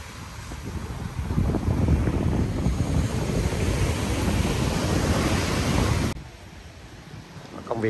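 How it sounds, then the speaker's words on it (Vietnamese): Big sea waves breaking on the beach at Nha Trang, Vietnam, on a breezy afternoon: a loud, continuous surf roar mixed with wind noise that drops suddenly near the end. "Biển nước cũng đẹp,"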